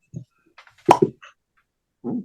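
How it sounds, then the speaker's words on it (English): A cork pops from a Widow Jane bourbon bottle with a single sharp, close plop, followed by brief quiet rustling and a soft low thump afterward. "That was a good cork pop too."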